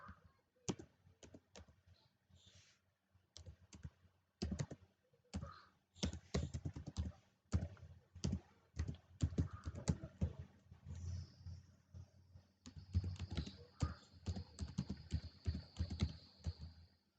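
Typing on a computer keyboard, bursts of quick close key clicks with short pauses between them, fairly faint and with no voices.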